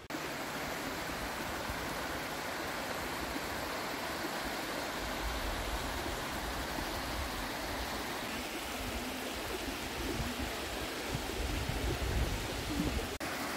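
Constant rushing roar of a waterfall at Chiang Mai, broadband and steady throughout, with no voices above the water.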